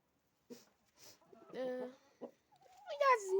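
Hens clucking softly in a coop in the evening, a few short, close calls and a longer rising cluck near the end, in an otherwise quiet setting.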